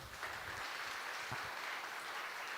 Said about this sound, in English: Please give a round of applause for the...